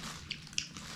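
Close, wet chewing with a couple of sharp crunchy bites, someone eating crispy fried food near the microphone.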